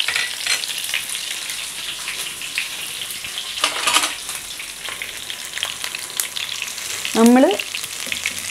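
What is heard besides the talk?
crushed ginger, garlic and curry leaves frying in oil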